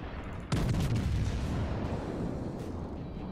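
Heavy naval guns booming in World of Warships, firing at the cruiser New Orleans: a loud sudden blast half a second in, followed by a sustained rumbling roar and distant crackle.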